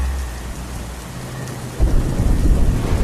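Steady heavy rain falls, and a low rumble of thunder rolls in midway and keeps building, loud and close with no voices.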